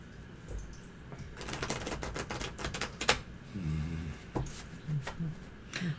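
Tarot cards are shuffled close up in a run of quick riffling clicks and flutters, with a few soft low voice murmurs underneath.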